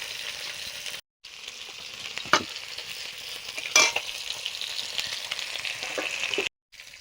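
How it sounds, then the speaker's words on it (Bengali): Fish frying in a pan, a steady close sizzle of hot oil with a few louder stirring scrapes and brief pauses. "এই মাছগুলো ভাজা হয়ে গেছে, এগুলো তুলে নিচ্ছি"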